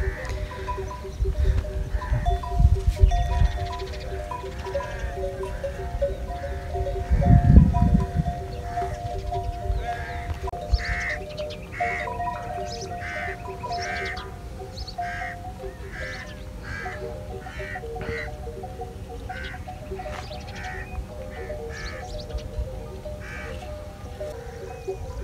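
A flock of sheep in the Cholistan desert bleats on and off over a long stretch. The calls are scattered and mostly moderate, some nearer and louder, with low rumbling handling noise early on and faint voices in the background.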